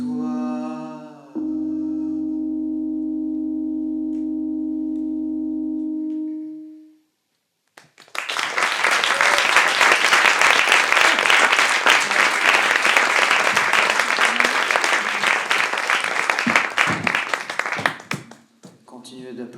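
A live audience at a French stage show breaks into loud, dense applause that lasts about ten seconds before fading out. A sustained sung note comes first.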